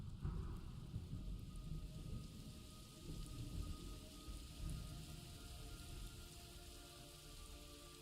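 Steady rainfall patters continuously with a low rumble of thunder beneath in the video game Metal Gear Solid Delta: Snake Eater, a moderately quiet, even storm ambience with no voices.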